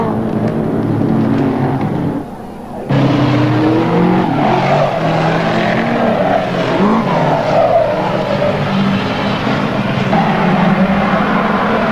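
Midget race car lapping Western Springs Speedway in a 1984/85 international series, engine roaring and revving loudly with tyres skidding and squealing through the turns, a brief drop in sound before the car roars back close by.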